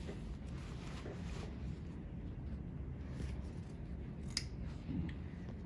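Scissors cut through denim along a jeans seam during sewing, a steady crunchy shearing that runs close and continuous over a low room hum, with one sharper snip near the end.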